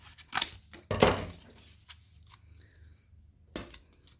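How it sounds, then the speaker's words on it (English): Scissors snipping pieces off a paper mache mask, a few sharp crisp cuts with quieter rustling and handling of the paper between them, close and clear with no talking. "so I'm going to go ahead and cut these off."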